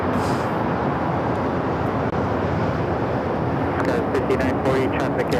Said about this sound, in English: Air New Zealand Flight 6 about to touch down.